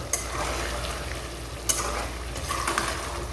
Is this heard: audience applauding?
no